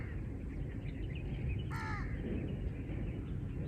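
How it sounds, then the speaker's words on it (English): A crow gives one short caw alone outdoors, faint against a low steady background rumble. "This bird won't stop chirping."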